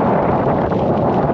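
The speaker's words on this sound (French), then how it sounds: "il y a une rafale tellement forte" A strong gust of wind buffets a cyclist on a desert road, a loud, dense roar of broadband rushing noise that stays steady throughout.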